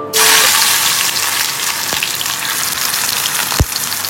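Sliced bitter gourd dropped into hot oil sets off a sudden loud burst of sizzling that settles into a steady close crackle, with a couple of sharp clinks from a utensil.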